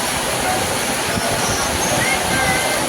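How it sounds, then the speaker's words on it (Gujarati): Heavy rain pours down in a dense, steady roar of broadband hiss that holds at an even, loud level throughout, with no clear voices over it. "વરસાદ ચાલુ છે. જોરદાર પડે છે હો વરસાદ."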